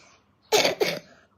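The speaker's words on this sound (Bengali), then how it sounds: "কাশি হয়েছে?" A person gives a single close, sharp cough with two quick bursts in a quiet room, and nothing else is heard.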